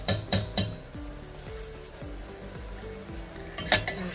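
Drained, soaked rice being stirred through a sizzling biryani pot, with a few sharp clinks of a spoon against the metal at the start and end and a steady low frying hiss in between.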